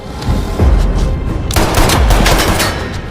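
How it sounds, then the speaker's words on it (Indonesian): Loud, rapid gunfire crackles in a sustained burst from an action film, with sharp reports and heavy booms layered over a dense, noisy soundtrack. "hingga Strode melepaskan tembakan ke arah Frank, namun Frank berhasil menghindar."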